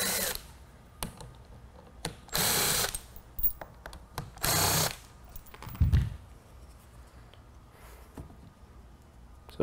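A hand tool loosens the three bolts holding the motor on a Tesla belt-driven steering rack, with a few sharp clicks and two or three longer rasping bursts spaced apart, close and fairly loud, with no talking.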